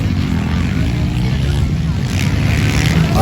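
Enduro motocross motorcycle racing at a local MX1 enduro event in South Cotabato, a loud, dense, continuous engine roar with steady rumble, heard at close range and saturating the scene without pause.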